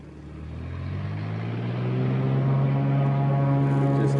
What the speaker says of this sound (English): Cannot get a break with the noise right now. It's the 3rd plane taking off.